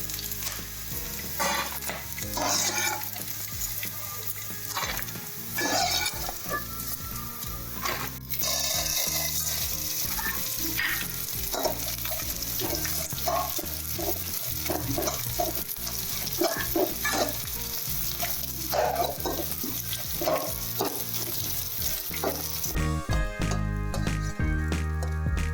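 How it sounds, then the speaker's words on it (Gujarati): Edible gum (gond) frying in hot fat for a jaggery dry fruit pak, a steady close sizzle with spoon stirring and scraping against the pan, crackling bursts throughout and no talking. "એકદમ સરસ રીતે ફૂલીને તળાઈ જાય એવી રીતે તળવાનો છે"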